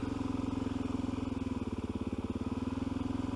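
A Suzuki DRZ motorcycle engine idles steadily up close, a low, even thumping pulse that holds throughout with no talk over it.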